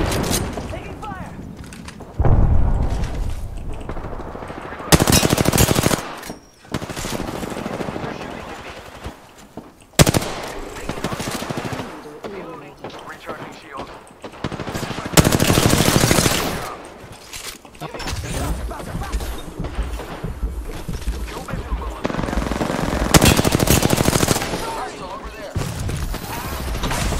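A video game firefight fills the scene with loud bursts of machine gun fire, several long sustained volleys broken by short pauses, while players talk over the shooting.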